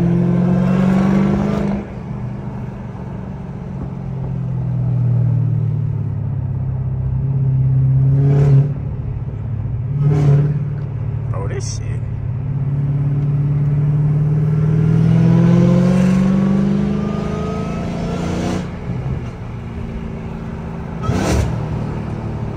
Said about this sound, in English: them downshifts sound crazy though